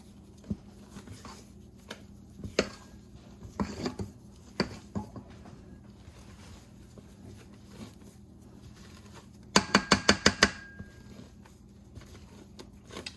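A spatula folds egg whites into pineapple upside-down cake batter, making soft scraping and tapping against the bowl at irregular intervals, with a quick run of sharp clinks near the end.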